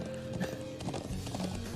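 In the Trails of Cold Steel video game, a horse's hooves clip-clop steadily at a trotting pace. The hooves run under game music and ambience without pause.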